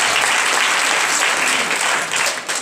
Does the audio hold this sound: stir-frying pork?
no